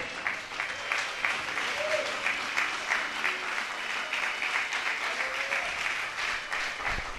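A church congregation claps for the Lord during a Spanish-language service: a steady, moderately loud wash of applause with faint voices under it.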